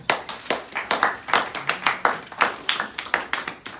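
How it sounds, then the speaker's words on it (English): A small group claps hands for students after they demonstrate a medial arch support exercise in an ankle lab, with sharp, uneven, fairly close claps continuing steadily throughout. "Give them claps after all"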